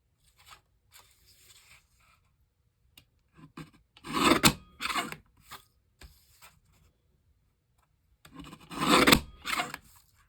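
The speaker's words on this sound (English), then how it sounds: "I'm going to use my little guillotine here and just trim off the mucky edges." A small paper guillotine trims the rough edges off a sheet of paper. It makes two separate rasping, scraping slices, each lasting about a second, with quiet handling noises between them and no talking.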